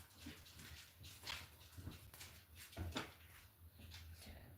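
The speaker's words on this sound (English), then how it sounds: "What you gonna do when you have a yapper for a dog?" Small yappy dog barking indoors in a few sharp bursts, spaced out over a low background hum with faint household clatter.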